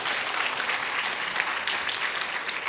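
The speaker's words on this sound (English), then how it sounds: "That deserves an applause." Audience applause at a Stanford Asian American awards ceremony, a steady dense clapping from a crowd in a room, fairly loud and continuous throughout.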